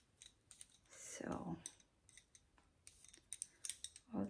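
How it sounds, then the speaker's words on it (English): Small, sparse clicks of knitting needles working stitches on double slippers, close but faint, with a brief scraping rustle in the middle. "all this needle clicking"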